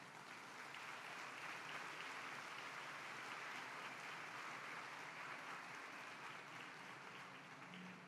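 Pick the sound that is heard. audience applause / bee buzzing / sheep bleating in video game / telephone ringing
audience applause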